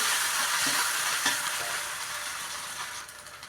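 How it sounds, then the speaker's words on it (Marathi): A paste of green chili, garlic and cumin fries in hot oil in a pan, giving a steady, fairly loud sizzle and hiss that eases slightly toward the end, with a few faint stirring knocks and no talking. "इथे मिरची लसूण आणि जिरे याची पेस्ट केलेली आहे ती मी याच्यात टाकणार आहे पेस्ट छान परतवून घ्यायची आहे"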